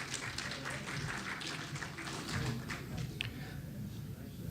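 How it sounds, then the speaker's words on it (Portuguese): Audience applause at the SBHidro 2024 hydrography conference: a steady, moderately faint wash of many hands clapping that fills the whole stretch without pause. "Uma salva de palmas."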